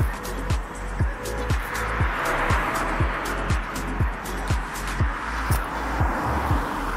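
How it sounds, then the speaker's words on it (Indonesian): Steady stream of cars passing on a busy street in Japan near a Shinkansen line, each vehicle rising and fading in a regular run of swishes over a constant traffic rumble. "banyak mobil."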